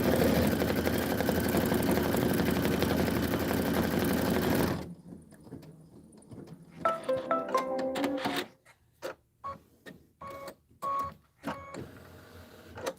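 A sewing machine stitches a Kimberbell basket in one long, steady whirring run that stops abruptly, followed by scattered clicks and handling noises.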